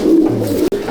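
Young pigeons in a racer loft give a soft, close, low cooing, one continuous throaty murmur with a brief break near the end and no voices over it.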